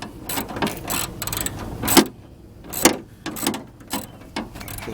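Close, uneven bursts of ratcheting clicks and metallic knocks come from a tool loosening a bolt on a Cadillac Escalade, with short pauses between strokes.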